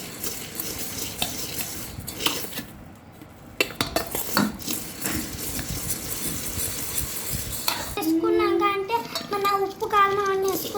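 A spoon scrapes and clanks against a pot while spiced food is mixed, with sizzling underneath and irregular knocks, and a person talks over the later part.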